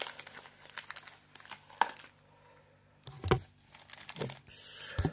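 A blaster box of 2020-21 Cardset Finnish Liiga hockey cards is cut open, giving scattered crinkling and tearing of cardboard and wrapping with a few sharper knocks, close and fairly quiet with no talk.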